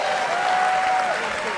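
A wrestling crowd applauding Rey Mysterio during a one-man-standing match, a dense continuous wash of clapping with a faint whistle, heard briefly and fairly loud.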